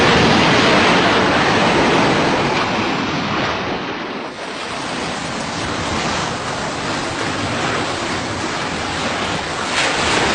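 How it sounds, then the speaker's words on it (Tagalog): Ocean waves surge and break loudly and continuously, with wind buffeting the microphone and a brief dip in the roar midway before it swells again. "Tingnan nyo, mahina ng alon."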